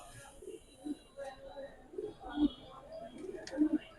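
Old Dhaka Giribaz pigeons coo in soft, low, repeated bursts spread across a few seconds, close by, with faint murmuring in the background.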